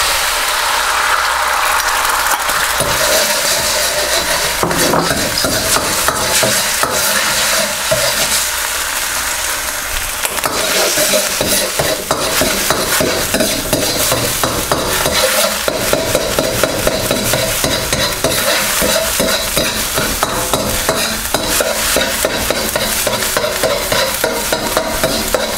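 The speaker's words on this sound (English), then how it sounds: "Bring that up to temperature," Egg frying in hot oil in a wok for Chinese char siu fried rice, a loud continuous sizzle and crackle with constant scraping and rattling of a utensil against the metal, dense and close throughout.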